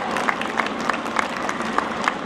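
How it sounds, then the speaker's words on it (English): Audience applause at a launch event address, a steady wash of clapping from a crowd with a few louder claps standing out at a regular rhythm, moderately loud throughout. "A big clap for you guys"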